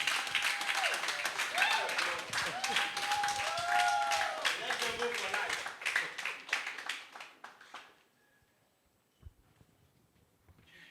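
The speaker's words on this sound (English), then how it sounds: "So with a resounding round of applause, ladies and gentlemen, he's going to give us hope." An audience applauds to welcome a speaker onto a panel at an HR event, sustained dense clapping with a few voices and whoops for about eight seconds before fading to near silence.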